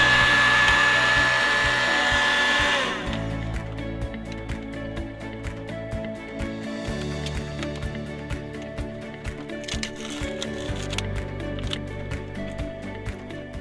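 Heat gun or hair dryer blowing hot air while working on a BMW 1 Series, a loud steady whoosh for about three seconds that then drops to a quieter hum mixed with scattered handling clicks.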